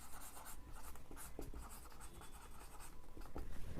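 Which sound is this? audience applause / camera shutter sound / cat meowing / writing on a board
writing on a board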